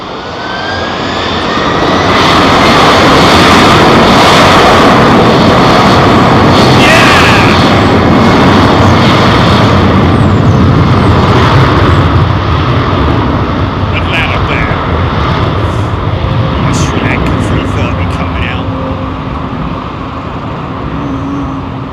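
Jet airliners take off at London Heathrow, a loud, close, sustained roar of engine noise with a faint whine on top that builds, holds for most of the stretch and then slowly eases.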